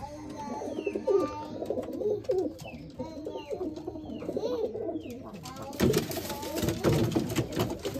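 Domestic Madrasi pigeons kept in a home loft, cooing repeatedly in soft low throaty calls close by, with other sounds joining toward the end.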